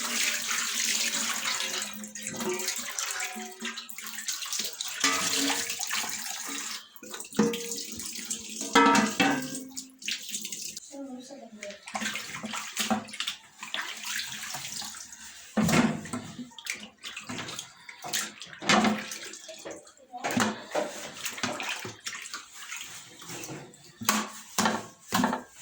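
Fesikh salted fish is washed under running water from a tap, with a continuous splashing flow, irregular bursts as the fish is handled, and occasional soft knocks against a basin.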